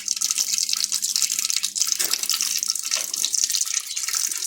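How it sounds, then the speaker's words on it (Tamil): Steady gushing of water from a tap, a continuous bright hiss with no pauses, close by and fairly loud throughout. "கடவுளே தண்ணி இவ்வளோ போகுது"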